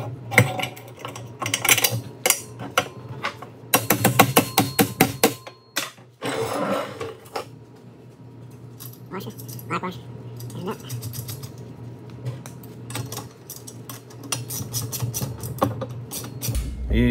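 Fulcrum bolt being mounted on a homemade 2x72 belt grinder, with close metallic clicks and rapid ratcheting bursts, then quieter intermittent taps over a low steady hum.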